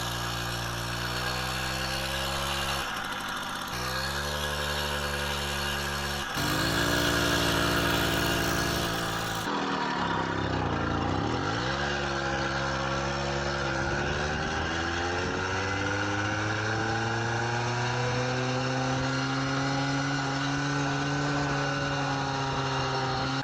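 A Puch E50 moped engine pulling away from a start and winding up to top speed, a buzzing two-stroke note whose pitch climbs and settles through the run, steady and close, with no talk.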